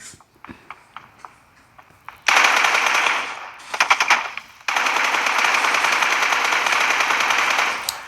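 Automatic gunfire from the PUBG video game rattles in long, loud, close bursts after a few scattered single shots, with no talking over it.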